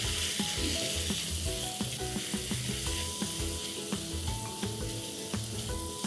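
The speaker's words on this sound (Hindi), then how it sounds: "मसालों को हम बहुत ही अच्छे से भून लेंगे।" Spices such as garam masala, ginger garlic paste and salt frying in a pan make a dense continuous sizzle, with repeated scraping and knocking of a stirring spoon and a few faint ringing metallic tones throughout.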